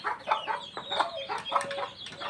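Free-range chickens roaming loose on a smallholding cluck in a string of short, close bursts, with a soft rustle of background noise between the calls.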